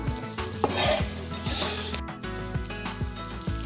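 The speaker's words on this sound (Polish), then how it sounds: "Na patelnię dorzucę zostałą cebulę razem z czosnkiem" Onion and garlic frying in a pan with butter nearby, giving a steady close sizzle broken by repeated scraping stir strokes and light clinks of a utensil against the pan, with no talking.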